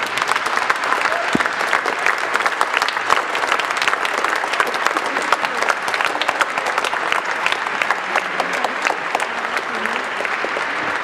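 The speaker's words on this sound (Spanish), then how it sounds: "Los recibimos con un caluroso aplauso." A congregation at a Saturday Mass gives a warm, sustained round of applause, many hands clapping evenly for about eleven seconds at a steady, fairly loud level with no speech over it.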